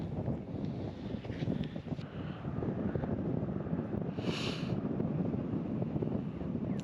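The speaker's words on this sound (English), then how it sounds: "It's real windy, there's a lot of flies." Strong, gusting wind buffets the microphone on the Nullarbor Links golf course, a steady broadband roar throughout with no speech.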